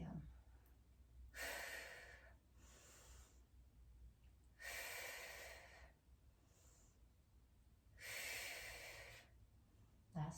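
Three loud, close breaths, drawn deep and even and spaced a few seconds apart, taken during tricep kickback exercises, with quiet gaps between them.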